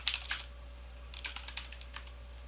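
Typing on a computer keyboard during a binary exploitation lesson, quick bursts of close, light key clicks separated by a short pause over a low steady hum.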